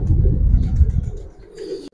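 Female pigeons coo in a loft, low throaty burbling calls repeating close by, softening toward the end, with a brief higher scratchy sound near the close.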